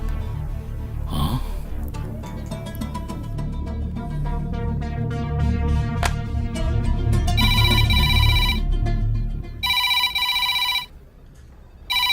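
An incoming call rings on a telephone, its electronic tone repeating in bursts over background music, then continuing alone with short gaps.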